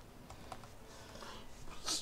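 Faint, sparse clicks of keys on a PC computer keyboard, a few separate taps followed by a slightly louder keystroke near the end.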